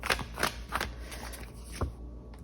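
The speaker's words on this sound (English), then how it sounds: "let's actually give this a quick shuffle." A deck of tarot cards is shuffled close up on a table, giving several quick papery riffles and flicks in irregular bursts, with no speech.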